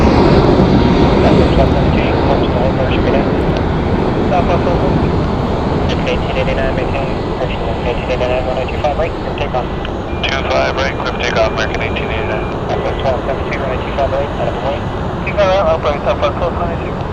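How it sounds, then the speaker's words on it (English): An airliner takes off from Phoenix Sky Harbor on a flight to Orlando, a loud, sustained engine roar that eases slightly over time, with talk running over it. "Taking off now is our flight heading over to I was about to say Chicago, but it's going to Orlando"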